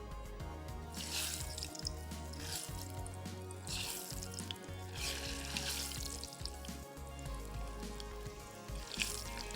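Hazelnut honey balls fry in hot oil as a steady bubbling sizzle with crackling bursts, alongside a constant low hum and occasional knocks from the stove or pan.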